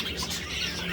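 Pet parakeets and other caged birds chirping indoors, a brief, busy wash of overlapping high tweets and calls close by.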